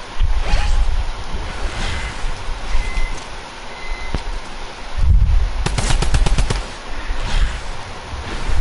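Sustained automatic fire from the Avatar mythic weapon in Fortnite, a loud rattling stream of shots with game effects layered over it and a few sharp bursts standing out.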